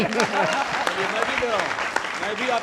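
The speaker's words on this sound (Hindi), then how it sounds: "तो पहली लाइन पे ताली दे दो यार" An audience at a televised political poetry gathering on the Delhi election applauds a poem's first line. The clapping is a steady crackle running beneath continuous nearby talking voices.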